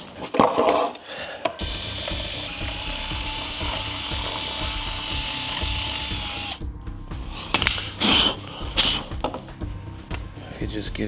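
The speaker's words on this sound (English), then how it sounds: "I'm gonna drill this out some more." A power drill bores out a bolt hole while an AXP Racing bash plate is fitted on a Yamaha Tenere 700 motorcycle. The drill whines steadily for several seconds, close and loud, then stops, and bursts of tool clatter and talk follow.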